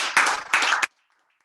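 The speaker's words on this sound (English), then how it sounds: "All right, round of applause for everyone." Two short bursts of hand clapping from a small group at a team meeting, close and fairly loud, each lasting about a third of a second before cutting off into silence.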